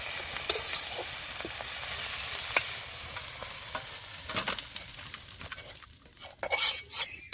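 Crab curry with garden greens is scraped and poured out of a pan, a close scraping of utensil on metal over a faint sizzle, with brief clinks and louder scraping toward the end.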